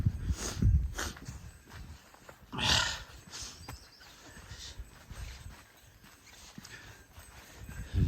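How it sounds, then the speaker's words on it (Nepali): A horse walks over ground, its hooves clip-clopping in a few scattered, moderately close thuds amid soft outdoor rustle. "घोडा पनि छ यहाँ"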